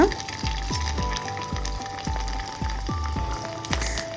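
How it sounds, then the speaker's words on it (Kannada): Sun-dried rice flour papad frying in hot oil, a close, steady sizzle and crackle with regular bubbling pops throughout. "ಇದನ್ನು ಇವಾಗ ಎಣ್ಣೆಗೆ ಬಿಟ್ಟು ನೋಡೋಣ ಹೇಗೆ ಬರುತ್ತೆ ಅಂತ"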